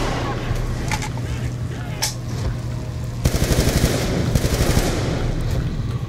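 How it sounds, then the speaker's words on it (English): Rapid machine-gun fire in Black Ops 2 rattles out in a dense, loud burst during the second half, over a steady background game drone. "Rather a machine gun."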